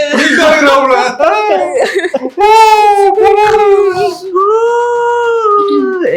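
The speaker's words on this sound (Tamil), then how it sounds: "என் குழந்தை கூட அழுவுது" A child crying loudly and close, with sobbing wails and long tonal cries that stretch into sustained, wavering howls, mixed with voice-like whimpers.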